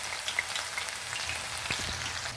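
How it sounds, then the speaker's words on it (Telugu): Sliced bitter gourd sizzles in hot oil over a medium flame while being fried into crisp chips, giving a steady, dense crackle with scattered sharper pops throughout. "మీడియం ఫ్లేమ్లో ఫ్రై చేసుకుందాం ఫ్రెండ్స్"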